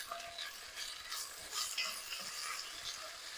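Six cloves of minced garlic and chopped onions fry in oil over medium heat, giving a steady, close sizzle and crackle with no talking.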